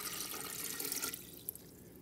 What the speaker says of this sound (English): Now what I'm gonna do is I'm gonna pour it right into the pitcher.